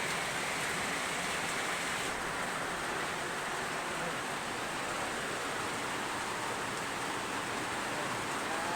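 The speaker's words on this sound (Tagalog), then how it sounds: "Ulan na naman mga ka kaidol" Heavy rain falls steadily on a rural copra-farming homestead in the Philippines, a dense, constant hiss that fills the scene with no pauses.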